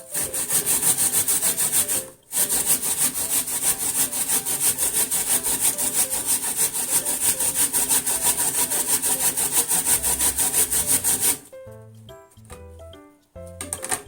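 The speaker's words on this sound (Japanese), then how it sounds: "すりおろししてみましょう。" An onion is grated by hand to make onion koji, giving a steady, close, rasping scrape that runs almost continuously with one short pause, then breaks into a few scattered knocks near the end.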